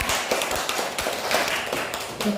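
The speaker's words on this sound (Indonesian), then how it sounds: "Tepuk tangan buat Mbak Karina" Audience in a classroom teaching session claps for a presenter, a dense run of close hand claps and taps with irregular thumps, loud and steady throughout.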